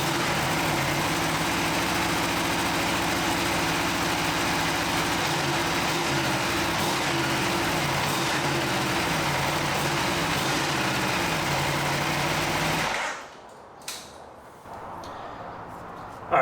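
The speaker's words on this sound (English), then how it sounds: "So here's our cold start up on our 2020 Aprilia RSV4 RR MISANO" A 2020 Aprilia RSV4 RR Misano fitted with an SC-Project exhaust idles loudly after a cold start, a steady, throbbing engine note that runs unbroken for about thirteen seconds, then cuts off abruptly into quieter background noise.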